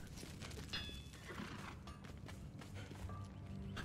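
In the Conan Exiles video game, a horse gives a short whinny among clopping hooves and mechanical clatter, faint and busy with background game noise.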